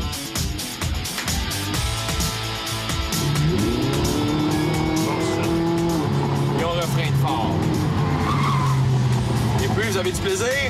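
An exotic sports car driven fast on a racetrack, its engine roaring loud and close with rising and falling pitch sweeps while the tires squeal continuously throughout.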